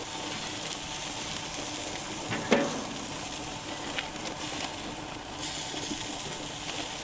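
Steaks sizzle on a hot grill with a quiet, continuous hiss, broken by a few soft clinks and scrapes from handling the meat.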